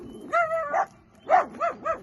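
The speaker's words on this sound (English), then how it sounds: "I apologize for my dogs barking, but they just saw a little ground squirrel that they think they have to go after." Dogs bark at a ground squirrel beside a campfire, with two bursts of sharp, close barks and yips, a short pause between them, and no talk over them.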